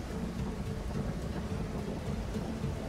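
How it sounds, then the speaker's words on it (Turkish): A storm in the survival game Stranded Deep, with steady dense rain and low rumbling thunder forming a continuous, fairly loud wash that fills the whole moment. "Aa, fırtına çıktı."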